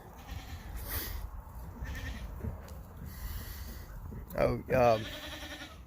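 Goats on a farm bleat in two loud, close, wavering calls near the end, with quieter animal sounds and a few spoken words earlier amid steady background noise.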